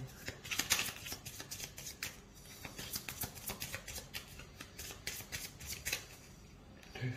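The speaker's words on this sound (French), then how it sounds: "On va mélanger son deck." A deck of cards is shuffled by hand for the Clank Legacy board game, a close, quiet run of rapid riffling bursts and soft slaps repeating over several seconds.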